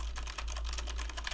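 Rapid, steady clatter of typing on a Corsair K70 mechanical keyboard with MX Red switches, dense quick keystrokes close up over a low hum.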